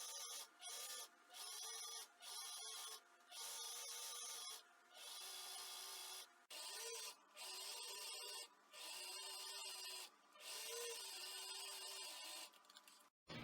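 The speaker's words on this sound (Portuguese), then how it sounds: "Eu vou passar uma costura de embebimento e aqui na barra eu também vou passar uma costura de embebimento" A sewing machine runs stitch after stitch along a gathering seam on a skirt, steady rapid whirring in repeated runs broken by short pauses, close and alone.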